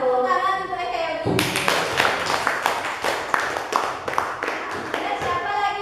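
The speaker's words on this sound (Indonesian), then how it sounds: "Tepuk tangan untuk Eka Yogi." Schoolchildren in a classroom clap for a classmate, a burst of close, somewhat uneven hand claps lasting about four seconds, with a teacher's voice speaking before and after the clapping.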